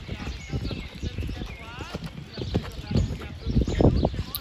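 Horse hooves clip-clop steadily while a rider works the horse over poles, the regular footfalls close and fairly loud, with a rider's voice talking over them throughout.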